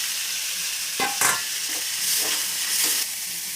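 Soya chunks frying in a pan, a loud steady close sizzle broken by a few brisk scraping stirs of a spatula.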